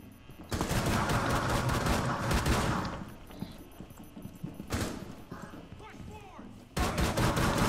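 Rapid automatic gunfire in the Rainbow Six video game comes in loud sustained bursts at the start, a brief volley midway, and another burst at the end, with quieter game sounds between.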